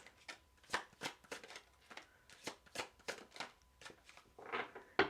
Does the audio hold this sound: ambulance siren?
no